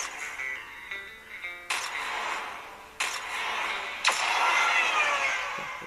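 Asphalt 8 Airborne racing game played on an HTC One max phone speaker: thin, loud engine roar with whooshing bursts and sudden boost-like swells, tinny and bright, with no talking.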